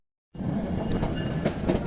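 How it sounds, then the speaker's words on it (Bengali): The Subarna Express, a non-stop train between Dhaka and Chittagong, running on the rails. After a brief silence a loud, steady rumble begins, with rhythmic clatter and occasional sharper squeals near the end. "অলরেডি ট্রেন রওনা দিয়ে দিয়েছে"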